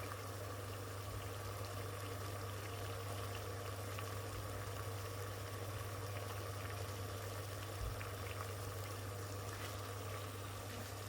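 Water, under two cups, boiling on a Bosch PVS675FB5E induction cooktop, a faint steady bubbling hiss with a low constant hum beneath it and no talking.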